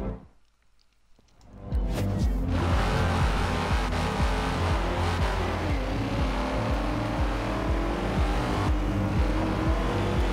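Bugatti supercar engine in the racing game Forza Horizon 2, from a Furious 7 car pack: a loud, sustained roar with rising and falling revs after a brief quiet start, continuous throughout.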